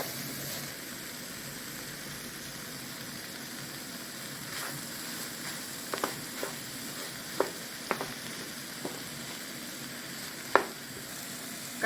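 Thai stir-fried noodles sizzle steadily in a hot pan as they are mixed, a constant frying hiss broken by a few sharp clicks and scrapes of the utensil.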